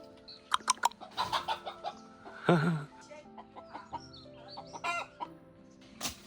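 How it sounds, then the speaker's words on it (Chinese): Backyard chickens cluck and squawk in short irregular bursts close by, including one longer drawn-out call, the sounds scattered across a quiet rural garden. "我们有一只鸡，它已经出窝了"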